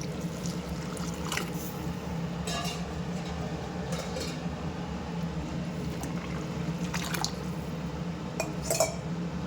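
Water trickles and splashes steadily into a metal pot of rasam with salt and tamarind over a constant low kitchen hum, with a few brief clinks along the way.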